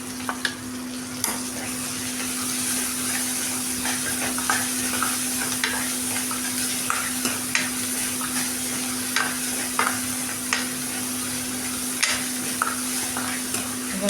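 Onions sauté with ginger garlic paste in a pan, giving a steady sizzle with frequent light scrapes and taps from stirring and a constant hum underneath, and no voices.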